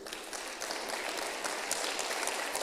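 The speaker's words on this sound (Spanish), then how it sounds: "Vamos a darle un aplauso a Cristo." A church congregation applauds during a sermon, a soft, dense spread of clapping from many people, fairly distant and steady for under three seconds with no voices on top.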